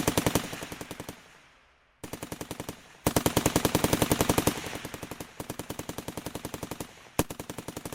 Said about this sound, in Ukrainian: А тепер ви мені покажете, як вмієте стріляти.